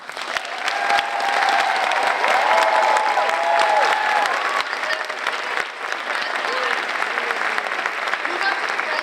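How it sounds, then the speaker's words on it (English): An audience at an elementary school fifth-grade graduation applauds the graduating class, with steady sustained clapping from a crowd and voices and cheers mixed through it for about nine seconds. "Ladies and gentlemen, you may clap for this class."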